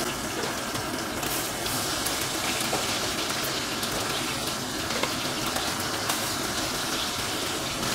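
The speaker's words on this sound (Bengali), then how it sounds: "এবারে আমি তেলের মধ্যে মাছ দিয়ে দিলাম" Fish sizzling in hot mustard oil in a pan, a steady dense crackle and hiss that continues evenly throughout, close and alone with no talk.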